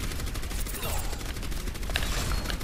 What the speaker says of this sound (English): I'm giving you covering fire.